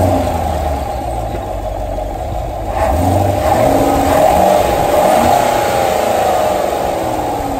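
A nearby C7 Corvette engine idles, then revs up in a rising, throaty surge and holds at higher revs before easing slightly, with the exhaust in stealth mode and a stock air filter.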